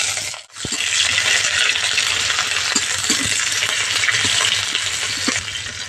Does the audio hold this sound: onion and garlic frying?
yes